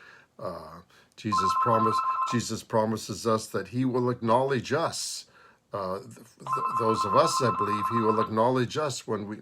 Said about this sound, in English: Sorry for the phone interruption.